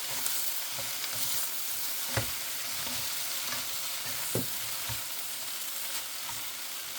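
Noodles are stir-fried in a pan with a steady close sizzle, broken by scraping and clanking as they are tossed and mixed, with no talking.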